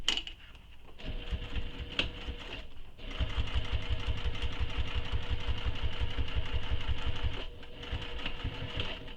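A sewing machine topstitches along the fabric edge of a Kayla Commuter Tote, starting with short bursts, then running in a steady, fast, rhythmic hum for several seconds before slowing near the end.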